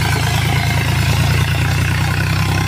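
A new Eicher 551 tractor engine runs steadily with a loud, throbbing diesel chug and a constant mechanical roar, close by and unbroken, with no voices.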